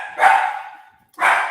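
A dog barks loudly and close by, one sustained bark followed after a brief silence by another, with no talking.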